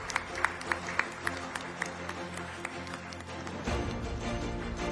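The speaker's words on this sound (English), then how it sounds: "A big round of applause for Ranjit ji." Audience applause at an awards ceremony for unsung heroes, a steady moderate clapping that swells louder toward the end, with a few sharp individual claps standing out early on.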